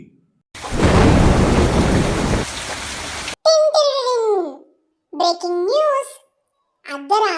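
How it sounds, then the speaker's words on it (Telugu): A loud burst of thunder rumbles with heavy rain noise, lasting a few seconds, followed by someone speaking in several short phrases with pauses between them. "అతి భారీ నుండి అతి భారీ వర్షం"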